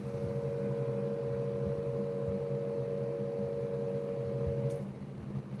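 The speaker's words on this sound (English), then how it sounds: "A Whelan digital siren controller running a dual tone signal." A lower-pitched dual-tone siren note from an online tone generator holds steady and fairly quiet for about five seconds, then stops abruptly and leaves a low background hum.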